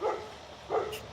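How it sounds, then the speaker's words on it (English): A Great Pyrenees barks in the background outdoors while trees are being cut nearby, giving two deep, separate barks about half a second apart at moderate distance. "That idiot dog you hear in the background, that is my Great Pyrenees."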